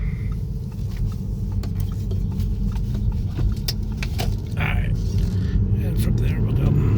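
A 2015 Audi A6 Quattro TDI diesel accelerating at three-quarter throttle from inside the cabin, a deep steady engine and road rumble that builds gradually while someone talks over it.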